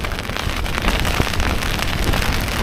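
Heavy rain from a storm drums steadily on taut tent fabric overhead, a dense close patter with scattered louder drops and no voices.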